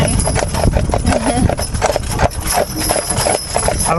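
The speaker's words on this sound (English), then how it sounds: "I don't think we've had these horses down this road before yet" Percheron draft horses pulling along a road, their hooves clip-clopping in a steady, loud, close rhythm that fills the whole stretch with no talking.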